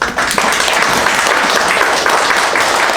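Audience applause after a lecture, dense and steady clapping from a roomful of people that holds at a loud, even level for a few seconds.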